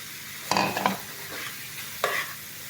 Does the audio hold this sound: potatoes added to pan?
yes